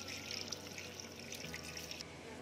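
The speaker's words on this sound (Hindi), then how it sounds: "अब इसमें हम शामिल करेंगे 2 गिलास पानी" Two glasses of water poured into a pressure cooker holding chopped onion and mutton liver, a steady soft splashing trickle throughout, fairly quiet with no talking.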